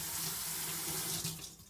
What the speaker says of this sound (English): you can just dump it in the sink, rinse it off